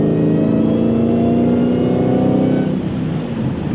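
A Dodge Challenger Hellcat Redeye pulls at half throttle on a night drive, its engine a loud, close, rising drone heard from inside the car that eases off near the end, with no talk.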